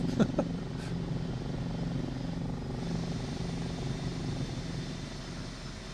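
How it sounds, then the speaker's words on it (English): A simulated L-39 Albatross jet engine sound from Microsoft Flight Simulator 2024 plays during a helicopter flight, a steady broadband drone with a low rumble holding evenly throughout. "I swear it is putting in like the engine sound of the L-39 Albatross"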